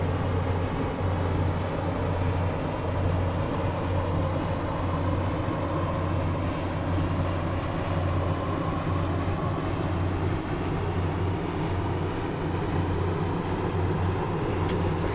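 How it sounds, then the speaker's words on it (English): A Class 150/2 diesel multiple unit in Train Simulator 2018, on the Bristol to Westbury route, rolls along with its power idled, giving a steady, continuous low rumble and running noise that holds an even level throughout with no talk. "I'm going to idle the power to allow the train to coast"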